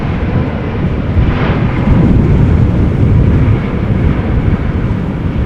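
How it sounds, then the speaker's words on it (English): An Embraer 175 KLM airliner at Amsterdam Schiphol Airport during a storm gives off a heavy, sustained low roar, with the jet rumble blending into a dense wind wash. "Embraer 175 KLM flight 1270 returning from Poland."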